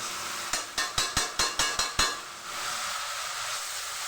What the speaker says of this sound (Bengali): এটাকে বেশ নাড়াচাড়া করে দেবো।